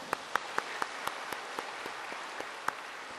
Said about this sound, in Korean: 우리 하나님께 하면 영광의 박수 한번 합시다